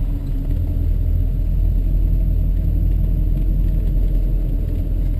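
A 1968 Ford Mustang V8 coupe with automatic gearbox cruising along, heard from inside as a steady, loud low engine rumble and road drone that holds even throughout, with no speech.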